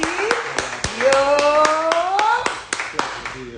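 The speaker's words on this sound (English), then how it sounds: "Clap it up one time for my man to the right of me." Steady hand clapping from a small group at a barbecue hangout, sharp claps landing at a regular pace while a voice talks or chants over them throughout.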